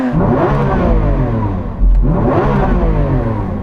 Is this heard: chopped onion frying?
no